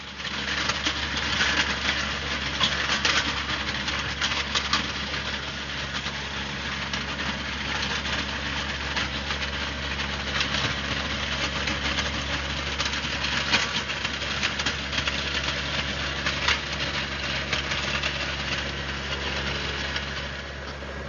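A John Deere 1025R compact tractor engine runs steadily at about 2,000 RPM in low gear and two-wheel drive while pulling a box blade with scarifiers over grass, a continuous mid-pitched drone with faint birdsong behind it.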